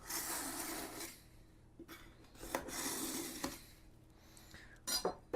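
A kitchen knife drawn through a three-stage grit sharpener, giving repeated rasping strokes with light metallic clinks, fairly close and clear, with no talking.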